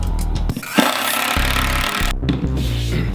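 A power tool drives screws to fasten a wooden template down for flush trimming, sounding as a loud steady whir with short pauses and bursts close by over about three seconds.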